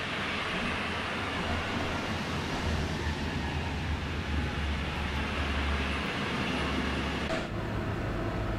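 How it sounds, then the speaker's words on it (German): Intercity train carriages roll along in Train Sim World 3, a steady loud rumble of wheels on track with a low drone throughout, continuous and close, no talking over it. "Ich finde die Intercity-Wagen klingen am schönsten, oder?"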